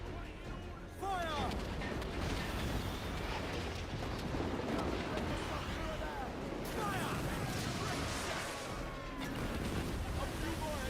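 Ship cannons firing during a naval battle in Assassin's Creed Black Flag, heavy booming blasts over rolling sea and game noise, with someone shouting between volleys.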